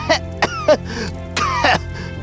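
A child coughs violently in several harsh, ragged bursts with throat-clearing rasps between them, close and loud.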